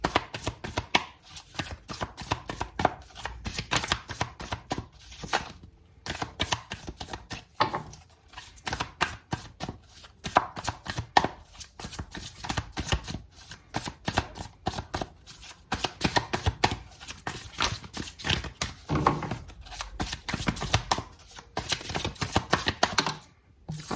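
Tarot cards being shuffled and drawn in steady, rapid riffling bursts of crisp flicking and slapping, close and continuous for a long stretch with only brief pauses and no talk over it.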